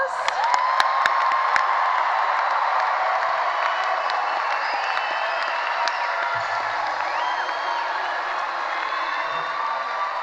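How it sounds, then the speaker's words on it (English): High school graduation ceremony crowd in a large venue, sustained applause with cheering and whoops blended into a steady roar, plus occasional sharp claps and a few shouts over ten seconds. "Let's give our graduates another round of applause."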